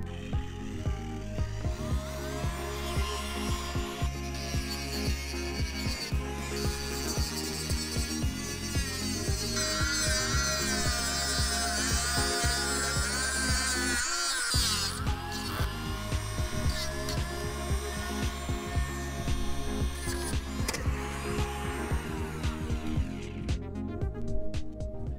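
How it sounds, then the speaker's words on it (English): A power tool grinds and sands down a landing gear part for a Balsa USA Smoothie RC plane kit, a continuous close whining drone with shifting pitch as pressure varies, briefly pausing near the middle. "I'm carefully going to try to trim this off and then kind of sand it, kind of grind it down"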